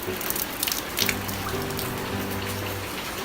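Rain falls steadily and close by in a wet outdoor setting, a continuous pattering hiss with scattered drips and spatters, heard alone without talk.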